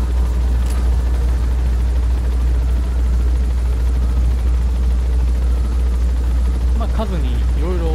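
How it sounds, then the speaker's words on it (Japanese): A helicopter in Metal Gear Solid V: The Phantom Pain drones with a heavy, constant low rotor rumble throughout, loud and steady, while someone talks over it and a brief electronic chirp appears near the end. "ではまず初期開始地点までヘリコプターで送っていただきます。"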